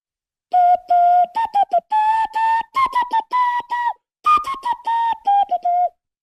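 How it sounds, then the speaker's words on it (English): A man whistles a song solo, a clear melodic line of sustained and stepping notes with short pauses between phrases, close and fairly loud. "I don't want to talk. I want to whistle."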